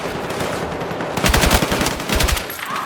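Rapid automatic gunfire rattles in steady bursts during a Battlefield 6 campaign battle, loud and close, with a burst of machine-gun shots in the middle over continuous combat noise.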